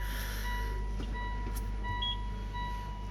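A 2020 Mitsubishi Xpander MPV put into reverse gear gives faint, evenly spaced reversing beeps over a low steady hum from inside the car.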